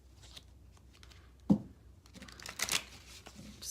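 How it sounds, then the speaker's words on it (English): Quiet tarot card shuffling: a soft riffle and a couple of sharper flutters of cards, with short pauses in between. No one speaks. "Just gonna do a couple shuffles here."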